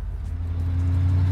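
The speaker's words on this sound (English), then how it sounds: "once it hits that fourth gear. She's shifting real good." A 1968 Ford Torino fitted with an AOD automatic transmission cruising, its engine a steady low rumble that builds slightly as it moves through the gears, heard close from inside the car.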